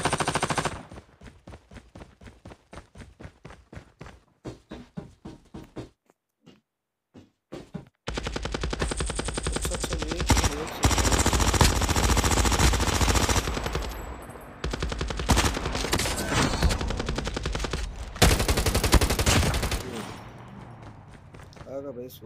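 Rapid game gunfire from Call of Duty squad play, with bursts of automatic fire and scattered shots building into long, dense, loud volleys, players talking over it at times.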